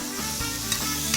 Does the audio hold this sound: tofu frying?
yes